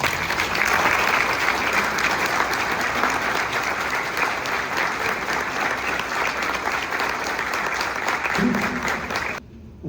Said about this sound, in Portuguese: para a qual eu peço uma salva de palmas